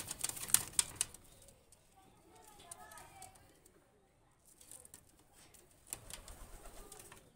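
Pakistani high flyer pigeons coo faintly in the background, soft intermittent murmurs with a few light clicks and rustles scattered through, quieter in the middle and picking up again near the end.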